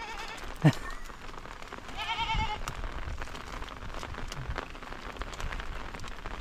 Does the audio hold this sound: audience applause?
no